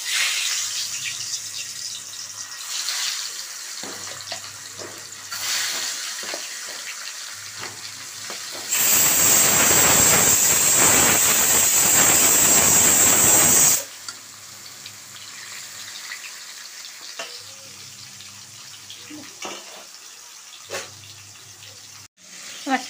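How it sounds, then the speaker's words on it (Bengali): Fish sizzles loudly in hot mustard oil in a kadai for a Bengali shankar fish curry, a steady hiss surging strongly for several seconds before settling into a quieter background crackle, with no talking. "এখন মাছগুলি ভেজে নেব।"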